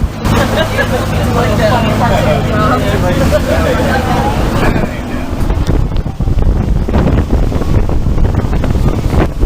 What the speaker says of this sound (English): Because of the unexpected windy conditions prevailing today